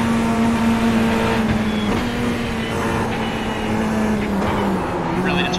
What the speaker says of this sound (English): Right here, gotta let off the throttle.